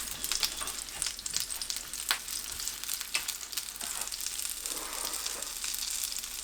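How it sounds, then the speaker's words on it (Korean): Gentle, steady sizzling of egg-coated king oyster mushrooms frying in oil in a pan over low heat, with soft crackles and pops throughout, close and fairly quiet. "한 번 더 계란 입혀서 식용유 두른 팬에 약불로 붙여주세요."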